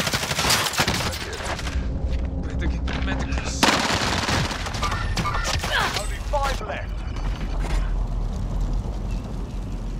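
Sustained rapid gunfire from a precision airstrike in a video game, loud bursts rattling over several seconds with a sharp crack midway and mechanical noise beneath.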